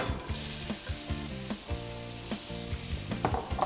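Onion rings sizzle in a frying pan still holding the juices from cooked fish, a close, lively crackle with a few light stirring touches and no voices.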